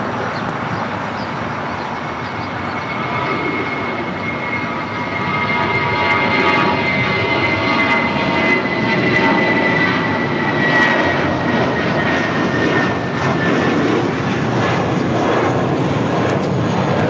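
Airliner taking off from runway 25 right at LAX, with a broad, steady jet-engine roar that holds throughout and swells slightly as the takeoff roll builds.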